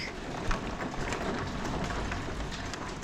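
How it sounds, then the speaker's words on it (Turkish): Heavy rain pours down steadily during a village storm, a dense, continuous hiss and patter close by with no voices, the downpour heavy enough that it nears hail. "Şu an baya sert yağıyor yağmur."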